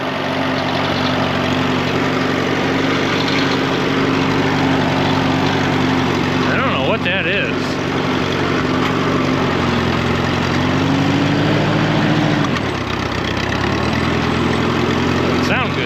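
A damaged, seized tractor engine, running in gear and sounding rough with a steady loud drone that shifts pitch near the end, while a voice speaks briefly over it.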